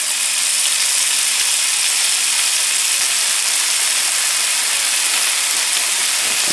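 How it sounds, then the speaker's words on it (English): Food sizzles on a 17-inch Blackstone E-Series electric tabletop griddle set to 425 degrees, giving a loud, steady, close hiss that runs throughout without a break, with no talking. "but you get a sizzle."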